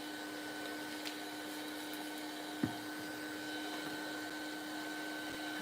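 A dryer drying paint on a journal page gives a quiet, constant whirring hum throughout, broken only by a couple of faint clicks.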